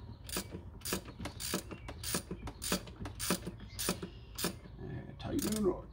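A ratchet wrench tightens a bolt on the thermostat housing of an Astro Van, giving a rapid series of sharp, close clicks in quick bursts, with a faint voice briefly near the end.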